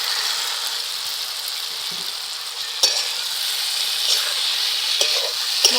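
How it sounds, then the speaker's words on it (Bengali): Fried cauliflower pieces dropped into spiced oil in a pan for a Bengali cauliflower curry, giving a loud steady hiss of frying with a few sharp clatters of stirring, and no voices. "এবার ভেজে রাখা কপিগুলোকে দিয়ে দেব।"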